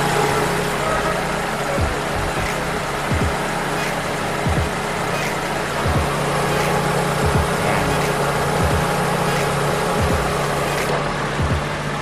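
Car engine idling with its air conditioning switched on, in a vehicle that has an idle-up fault causing the engine to drop revs; a steady low hum runs throughout under faint, regular ticking pulses.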